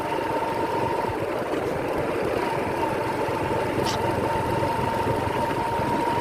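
A motorcycle engine runs steadily through the night on a rural back road past villages, a constant droning hum with no pauses, recorded close to the rider.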